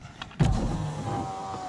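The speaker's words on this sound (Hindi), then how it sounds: "विंडो नीचे कर दूंगा" A car's electric power window motor whirs steadily as the glass is lowered, a close, continuous hum with a soft start click, heard alone without talk.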